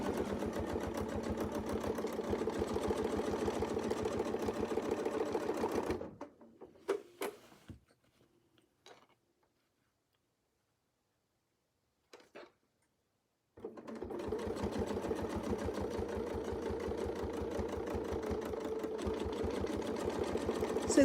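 A quilting sewing machine double-stitches circles guided by a Westalee ruler, running in two long steady bursts of rapid rhythmic stitching with a quiet pause between, close and fairly loud.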